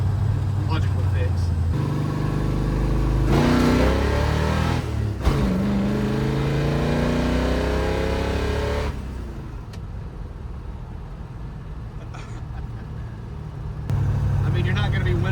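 Engine of a 1958 Plymouth barn find revving hard under acceleration, a loud rising roar with gear changes, close by and steady, with someone talking over parts of it.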